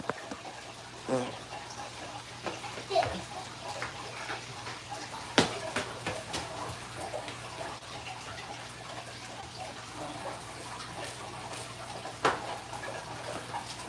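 Water pours steadily while a fish tank fills, a low, continuous rushing with occasional soft knocks and splashes, fairly quiet throughout.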